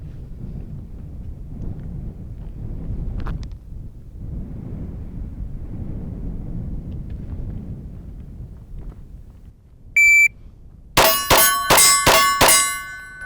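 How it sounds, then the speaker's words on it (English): A Glock 19 pistol fires five quick shots from compressed ready at steel targets on an outdoor range, each crack ringing off the steel, after a beep from the shot timer and a stretch of quiet wind noise. "So let's do, 5 shots on steel."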